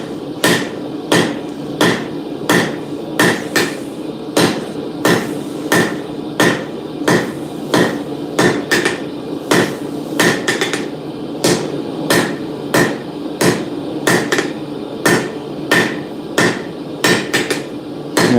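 A hammer strikes hot steel while a turning chisel is forged, about two dozen sharp ringing blows in an irregular but steady rhythm, loud and close, with no talking.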